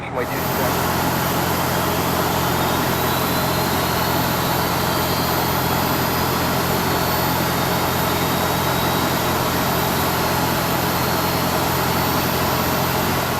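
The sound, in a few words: airliner engine 2 starting up in flight simulator video game FSX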